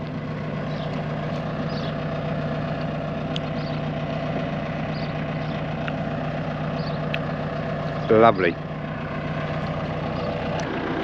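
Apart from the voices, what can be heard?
tractor engine running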